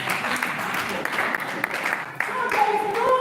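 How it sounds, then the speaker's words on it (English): An audience claps at a stakeholders' health meeting in a hall, a short burst of scattered applause mixed with room murmur and voices. "Can you clap for us?"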